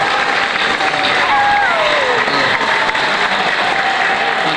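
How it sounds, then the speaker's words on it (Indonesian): A school festival crowd at SMK Sultan Agung Tirtomoyo claps loudly and continuously, with cheering and voices mixed into the steady applause. "Sekali lagi kita tepuk tangan dulu untuk SMK Sultan Ageng Tirtawaya"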